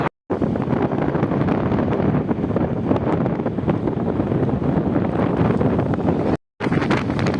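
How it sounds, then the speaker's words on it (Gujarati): Strong wind off the sea, with rain, roars continuously into the microphone with heavy buffeting, briefly cutting out near the start and again near the end. "પવનની જોરદાર રફતાર વધી ગઈ"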